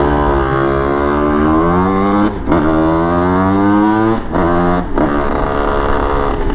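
A DT kit 70 motorcycle ridden on a road, its two-stroke engine buzzing loudly and close with rising revs through the gears, short dips at each shift before climbing again.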